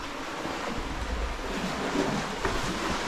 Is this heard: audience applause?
no